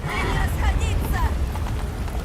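Hooves clip-clop in a rapid rhythm as a horse gallops in The Witcher 3: Wild Hunt, with a whinny and game sounds layered over a continuous low rumble.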